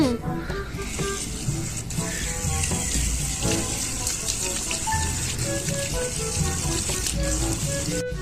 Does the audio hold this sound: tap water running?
yes